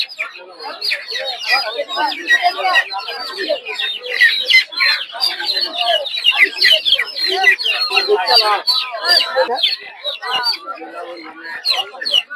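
Many chicks of local chickens cluck and cheep constantly and close by at a market, forming a busy, overlapping chorus that carries on for several seconds.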